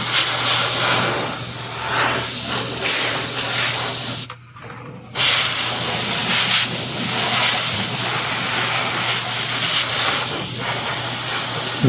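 An airbrush sprays a loose paint wash onto a quarter-scale Old Man He-Man figure, giving a steady close hiss that runs throughout with one brief pause near the middle.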